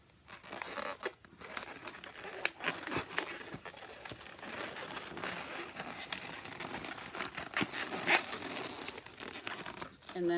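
A latex balloon is folded and twisted into a balloon animal up close, giving squeaky, rubbing and crinkling sounds in irregular bursts throughout, under faint background noise.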